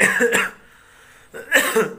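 Two close, harsh coughs separated by a short quiet pause, loud and near.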